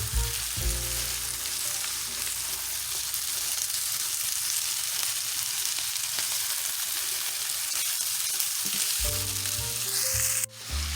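Cabbage frying in a pan is stirred and turned, giving a steady loud sizzle with scraping and clattering stirring noises throughout.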